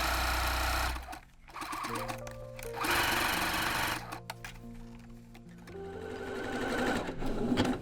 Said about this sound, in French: je vais faire donc la petite couture en point zigzag autour de mon chausson